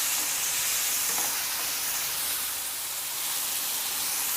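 Tomato chutney ingredients fry in a pan, giving a steady close sizzling hiss with light stirring noises throughout and no voices.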